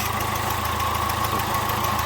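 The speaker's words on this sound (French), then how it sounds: "Le bruit de retour de pression que l'on entend ici" Citroen Nemo 1.4 HDi diesel engine with faulty injector seals idling, a steady close mechanical rumble with a rapid regular ticking pulse and a whining mid-range tone throughout.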